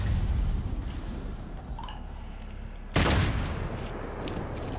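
Gunfire rattles in the action game Devil May Cry 5 as a muffled burst of rapid shots over a low rumble, followed by one sharp, loud blast partway through.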